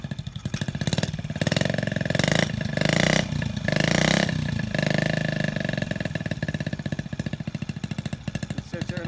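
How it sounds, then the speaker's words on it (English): Small single-cylinder engine of a 1969 Honda Z50 Mini-Trail monkey bike idling steadily nearby, a continuous even putter with a brief blip in the middle. "it sits there and idles real nice."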